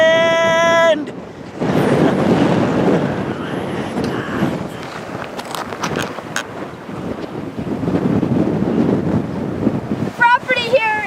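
Strong wind roars against the microphone in heavy gusts, with voices talking intermittently underneath and a few bird chirps.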